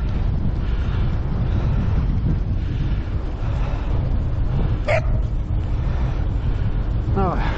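A dog barks once or twice, somewhat distant, over heavy wind rumble and road noise in Smiltynė, Lithuania, in January.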